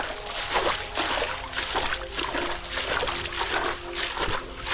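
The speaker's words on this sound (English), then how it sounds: "Yeah, waterfall right." Waterfall water splashes and patters inside a rocky cave gorge in Bali, a steady close spatter with rhythmic surges of louder splashing and no voices over it.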